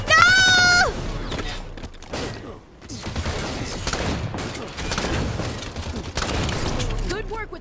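Rapid gunfire and mechanical weapon sounds from the Halo 5 video game, loud and dense throughout, with game music and a voice mixed in.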